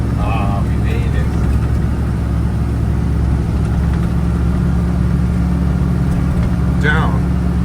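A big Power Wagon truck engine drones steadily while descending a rough downhill track, a loud continuous low rumble heard from inside the cab, with brief chirps or squeaks over it.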